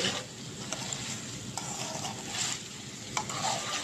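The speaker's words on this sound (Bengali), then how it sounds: "এই যে মাংস কষাচ্ছি, তেল বেরিয়ে গেছে মাংস" Meat being sautéed in oil until the fat separates, a continuous close sizzle with occasional scraping stir strokes and light clinks, steady and without talk.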